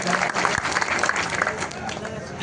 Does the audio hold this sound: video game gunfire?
no